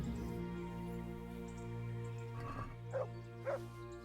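Dog in the game Kingdom Come: Deliverance giving two short barks late on, faint and distant over a steady background hum.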